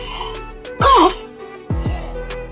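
A person coughs twice, each a harsh burst with a rough voiced tail, the first louder and longer, with a quieter throaty catch near the end.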